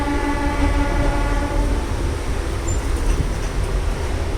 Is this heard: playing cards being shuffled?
no